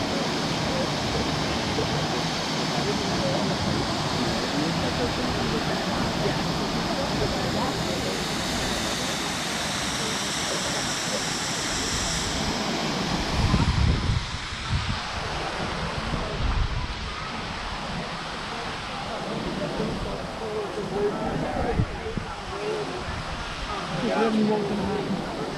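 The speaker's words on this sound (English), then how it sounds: "Let's get some more waterfall action here." Steady broadband rush of falling water from a waterfall in downtown Greenville, South Carolina, with gusts of wind buffeting the microphone in the second half.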